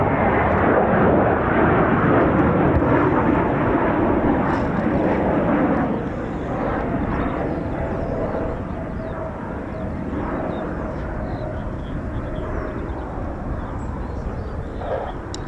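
A Eurofighter Typhoon FGR4 jet braking to land at an RAF station, a loud broad engine roar that holds steady and then eases slightly while continuing throughout.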